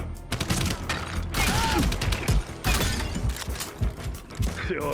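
A gun is reloaded in the game Dying Light: The Beast, with loud metallic clacks and ratcheting mechanical clicks packed over a busy, noisy game soundtrack.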